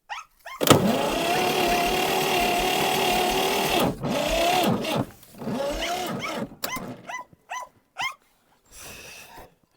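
A homemade tractor's engine cranks in -9 degree frost, a loud sustained whirring starter groan that sags and restarts, then breaks into short stuttering cranking bursts without catching, and no voices.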